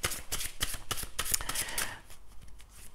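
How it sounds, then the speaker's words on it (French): Tarot cards being shuffled and drawn, a close series of quick papery riffles and flicks in an uneven rhythm, moderately loud and alone without talk. "Alors, je vais maintenant tirer une carte"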